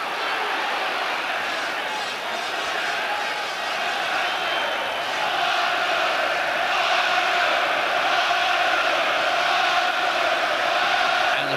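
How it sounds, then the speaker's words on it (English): A boxing arena crowd roars for Nigel Benn during his bout with Gerald McClellan, a continuous, loud, dense wall of cheering that holds steady and swells slightly toward the end. "Crowd roaring now for Ben"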